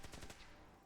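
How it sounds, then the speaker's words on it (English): Rapid gunfire pops off in a quick burst of about four sharp shots within half a second, faint and distant, then fades into a noisy tail. "Someone's being shot at."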